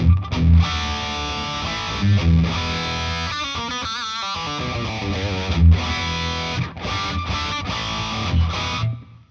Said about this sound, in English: if you hear like this distortion